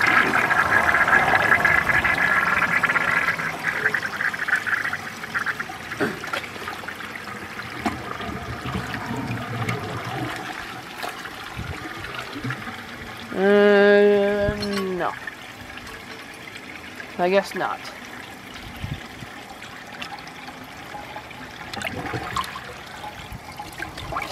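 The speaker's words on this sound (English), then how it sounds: "I'm gonna give it one flush while it's there." A 1946 Kohler Trylon toilet flushing, a strong rush of water at first that fades into trickling and dribbling refill, with a brief tonal gurgle midway and a person talking briefly over it.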